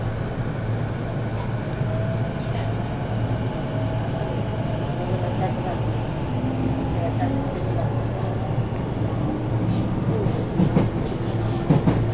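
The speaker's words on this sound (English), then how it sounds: "Alright, so we took the wrong train." Passenger train ride on a Japanese rail line, with a steady low rumble and rolling hum of the carriage throughout, a faint whine rising and falling, and a few brief clatters near the end.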